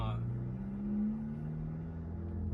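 A VW Mk5/6 on new Fapo coilovers rolls along with a low, steady engine rumble and road drone from inside the cabin, swelling slightly as it accelerates.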